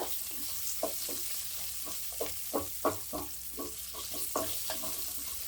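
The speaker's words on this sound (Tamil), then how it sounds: "வெங்காயம் கொஞ்சம் வதங்கட்டும் நல்லா." Large onions sautéing in a pan for Chettinad chicken gravy, a soft steady sizzle broken by repeated scraping stirs, close and fairly quiet with no talking.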